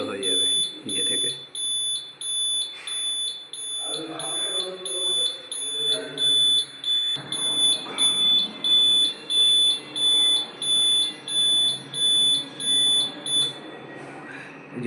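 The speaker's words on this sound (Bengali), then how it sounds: "এই ড্রাই রান অ্যালার্ম টিউনারটা বাজতে থাকবে যতক্ষণ অবধি না ট্যাঙ্ক অবধি জলটা পৌঁছচ্ছে।" A Dolphin water pump controller sounds its dry run alarm: a steady run of rhythmic electronic beeps in even pulses, loud and close, continuing under a man's speech until it abruptly cuts off near the end.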